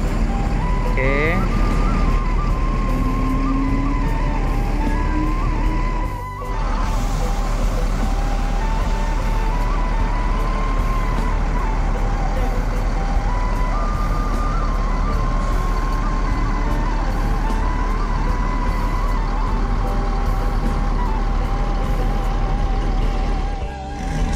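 Intercity bus pulling out of the Kampung Rambutan terminal in Jakarta, its engine rumbling steadily while reversing-style beeps and horn tones sound over constant crowd and traffic noise, with people talking throughout.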